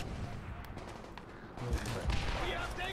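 Gunfire rattles in Call of Duty: World at War, dense overlapping shots and bursts that grow louder in the second half, with a voice talking over the action.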